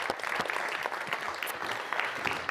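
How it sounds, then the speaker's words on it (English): Audience applause after a pitch at a startup demo day, a dense, steady wash of many hands clapping at close range that fills the whole stretch with no voices. "A round of applause."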